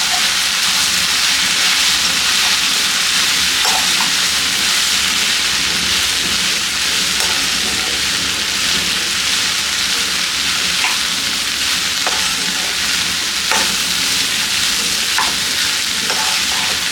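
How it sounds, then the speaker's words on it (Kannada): Raw banana pieces coated in spice powders frying in oil for balekai palya, a loud, unbroken sizzle with occasional light stirring clicks, steady for the whole stretch and free of speech. "ಈಗ ಈ ರೀತಿ ಮಿಕ್ಸ್ ಮಾಡ್ಕೊಂಡಾದ್ಮೇಲೆ ಇದನ್ನ ಹೀಗೆ ಎಣ್ಣೆನಲ್ಲಿ ಫ್ರೈ ಮಾಡ್ಕೊಳ್ಳೋಣ"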